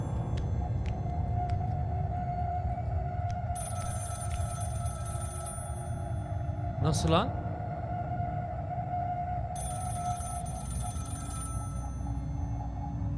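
A telephone rings from a toilet in a horror video game, one short warbling burst in the middle, under steady game ambience and someone talking.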